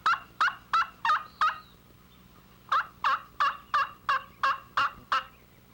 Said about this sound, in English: it is easy to pick up a series of yelps. You can cackle on it,